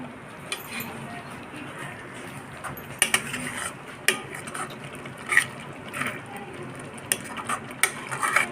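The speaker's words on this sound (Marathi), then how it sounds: "खाली तळाला लागणार नाही अशा प्रकारे हलवत राहायचं आहे।" A spoon stirs amla murabba, Indian gooseberry preserve in sugar syrup, around a kadhai over a medium flame, with repeated scraping clinks against the metal pan over a soft low bubbling background.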